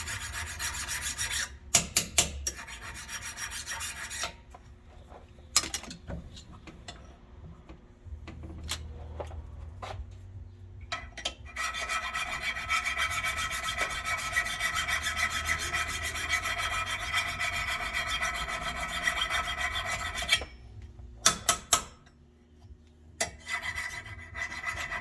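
Hand file rasping rust off a metal pin part from a 2000 International ambulance, with bursts of short strokes and then a long steady run of scraping, close and fairly loud, with a few knocks between.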